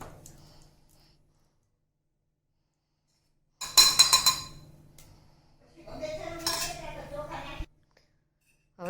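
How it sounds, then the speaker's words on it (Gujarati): A pressure cooker holding milk for dudhpak is rotated on the stove, giving two bursts of metallic clinks and scraping separated by near silence, close and fairly loud. "હવે આપણે કુકરને આવી રીતે આમ ફેરવી દેવાનું છે, જેથી આપણું દૂધ ચોટે નહીં."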